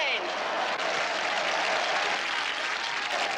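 A boxing crowd in the 1978 film Matilda cheers and claps in a steady, dense wash of applause, with a voice talking over it.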